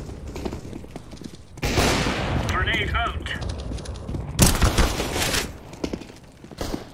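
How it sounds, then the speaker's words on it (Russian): Counter-Strike: Global Offensive gunfire, loud bursts of shots in two main stretches with quieter clatter between, the shooting mixed with game sounds and overlapped by players talking. "Кто стреляет?"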